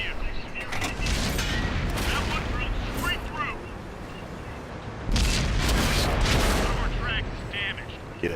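Heavy booms and gunfire from tank shells hitting and exploding in a World of Tanks battle, a dense continuous barrage with louder bursts near the start and again past the midpoint, with someone talking over it.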